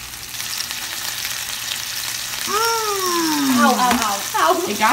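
Food sizzles steadily in a hot pan, a constant crackling hiss, while voices exclaim over it toward the end.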